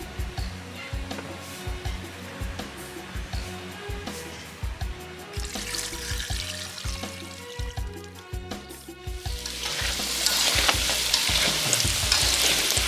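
Duck pieces coated in fermented tofu sizzle and fry in a pan, with steady crackling and repeated stirring scrapes throughout, growing louder and more intense toward the end.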